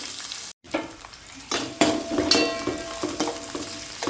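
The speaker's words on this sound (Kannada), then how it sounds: "ನೋಡಿ ಇಲ್ಲಿ ಇವಾಗ ನೀರುಳ್ಳಿ ಫ್ರೈ ಆಗ್ತಾ ಇದೆ." Onion with curry leaves fries in a pan, a close crackling sizzle broken by a brief silence, then stirring clatters and scrapes against the metal, with no voices.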